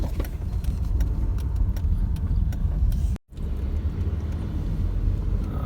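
Honda City ZX Gxi rolling in fourth gear without throttle, a low steady engine and road rumble heard from inside the cabin, cut by one brief dropout midway before resuming unchanged.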